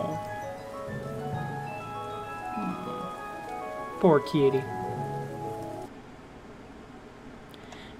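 Steady rain patter in the video game The Wizard Cat runs under a voice speaking briefly, with a short sharp sweeping cry partway through before the downpour continues more quietly.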